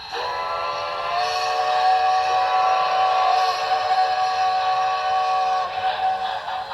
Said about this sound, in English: it'll play the long whistle once it gets over the next magnet